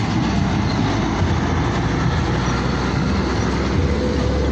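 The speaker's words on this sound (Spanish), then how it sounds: "Mercedes Benz, acelero." Heavy Mercedes-Benz truck pulling away under acceleration, a loud steady broadband engine roar with rumbling low end holding constant throughout, no voices.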